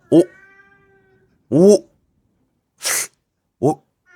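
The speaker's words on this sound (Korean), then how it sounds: "집에서 고양이 울음소리를 들려줘 봤는데요" Recorded cat meows played back indoors for a dog that goes wild over cats: three distinct harmonic meows spaced a second or so apart, with a short sneeze-like hiss between them, fairly loud and clear against a quiet room.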